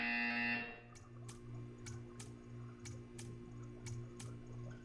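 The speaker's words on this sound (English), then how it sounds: "You will hear a buzzer. When you hear the buzzer, stare at the art." A buzzer in the Portal 2 video game at a test-chamber art display sounds in a series of sharp, evenly spaced pulses over a steady low electronic hum, fairly close and clear, with no talk over it.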